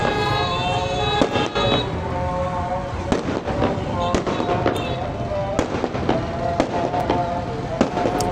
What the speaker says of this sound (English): more video of celebrations in the streets, even with fireworks